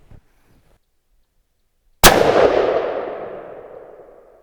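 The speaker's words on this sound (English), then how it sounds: "I'm going to go back to the Starline brass, shoot 1 or 2 more." A single loud, sharp 6.5 Creedmoor rifle shot fired with Starline brass, cracking suddenly out of near silence and then ringing off in a long fading echo.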